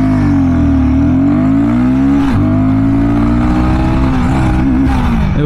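A Royal Enfield Guerrilla 450 motorcycle accelerates hard through its gears, its loud, close engine note rising in pitch, dropping briefly at a shift, then climbing again.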